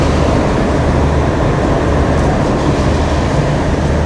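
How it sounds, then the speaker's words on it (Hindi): The Green Line train's locomotive, brought from Karachi, rumbles past in a loud, steady, continuous roar of wheels and engine, close and unbroken, with no talk. "वो जा रहा इसका लोकोमोटिव जो कराची से लेकर आया था"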